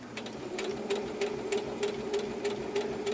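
A sewing machine stitches fabric patch pockets, running steadily, its needle tapping in a fast regular rhythm with a constant motor hum, close by and alone.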